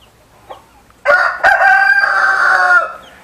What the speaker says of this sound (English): Try and talk in between the cock crows.